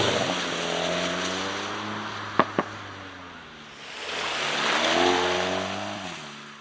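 A 300 hp VW Golf GTI Clubsport drops a gear at motorway speed, two sharp shift pops followed by a rising engine note as it keeps accelerating, heard from inside the cabin.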